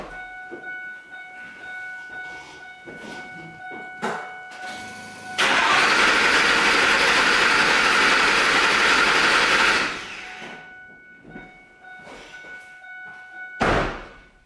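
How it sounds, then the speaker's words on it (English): An engine is cranked over by its starter, a loud steady whirring grind lasting about four seconds without catching, set among quieter clicks and shop sounds. "Now I'm gonna go crank the engine."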